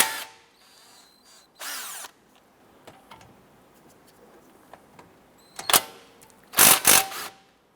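A power tool spins out the large 17mm brake caliper bracket bolts on a 2007-2012 Nissan Versa, in about three loud whirring bursts separated by quiet pauses of small shop noises.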